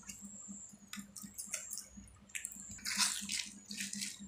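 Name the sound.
squeezing palm fruit pulp in water by hand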